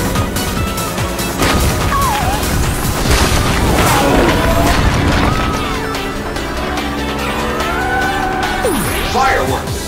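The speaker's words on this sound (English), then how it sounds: "fireworks." Fireworks in the Sonic & All-Stars Racing Transformed video game, loud booms and crashing bursts layered over continuous racing noise and game music, with some whistling streaks.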